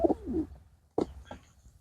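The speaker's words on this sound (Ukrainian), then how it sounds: "Чорна голубочка." A black pigeon at a bird show gives short throaty coos, a low burst at the start and two more after a brief pause, heard close by in a quiet room.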